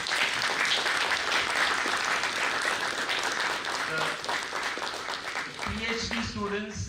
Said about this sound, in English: I request you a big round of applause to all our students.